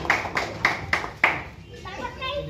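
Rhythmic hand clapping from a group of people at a local event in Darbhanga, five evenly spaced crisp claps fading into murmuring voices and light background chatter.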